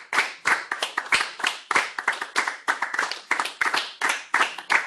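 Children clap their hands in a quick, uneven run of sharp claps, close and fairly loud, continuing through the whole stretch.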